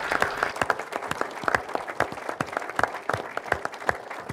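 Audience applause at a business panel on values in business and society in Bratislava: dense, steady clapping from many hands that carries on evenly without talk.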